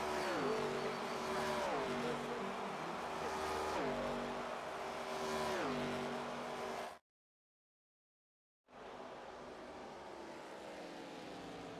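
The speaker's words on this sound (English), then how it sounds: "Get ready to feel the thunder as engines roar from the high banks" Race car engines roar loudly in the NASCAR 25 video game at Daytona International Speedway, a sustained high-revving drone with repeated downward pitch sweeps as gears shift, cut by a brief silence before the roar resumes.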